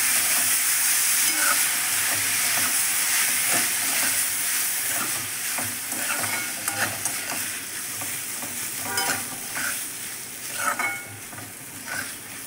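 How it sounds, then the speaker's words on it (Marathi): A spoon stirs kurdai noodle bhaji in a hot pan, a continuous close sizzle and frying hiss with scraping and clicking strokes throughout, no voices. "हे बघा, आता हिला छान हलवून घ्यायची."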